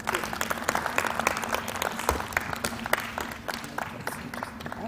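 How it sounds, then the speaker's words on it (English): Audience applause after a speech at a smart card launch event, a steady wash of many hands clapping at moderate level, with a few sharper individual claps standing out and a faint voice beneath. "Another round of applause for our Deputy Governor"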